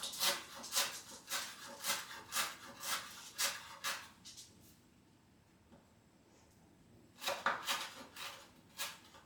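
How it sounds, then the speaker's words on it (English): Knife roughly chopping parsley, stalks and all, on a wooden board: bursts of quick rhythmic cuts, a pause of near silence around the middle, then a final run of chopping close by. "Don't need to finely chop, just roughly chopped."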